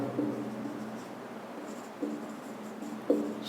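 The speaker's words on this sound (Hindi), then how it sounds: "नाम लिखते हैं अपन सोडियम" Marker or chalk writing the names of chemical elements on a board during a chemistry lesson, heard as continuous scratchy strokes with a few sharper taps, fairly close and alone.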